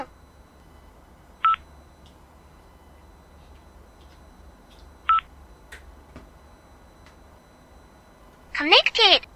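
Moondrop Nekocake wireless earbuds give two short electronic beeps as buttons are pressed, then a quick burst of cheerful synthesized anime-style voice prompts at the end, clear and close.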